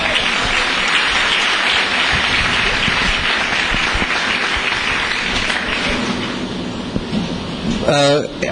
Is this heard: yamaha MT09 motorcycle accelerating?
no